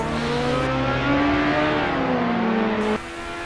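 Lotus Exos 125 race cars at Imola scream past close by, the high engine whine rising and bending in pitch as one car revs hard and then drops off sharply near the end.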